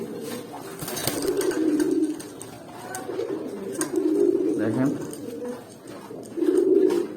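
Large Katamuni pigeons coo in a few low, throaty bursts close by, with someone speaking briefly between the calls.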